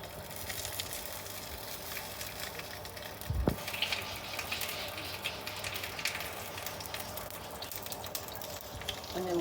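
Onions, green chillies and spices sautéing in a pan for a spiced chicken gizzard curry, giving a steady soft sizzle and crackle throughout with one brief clunk partway through.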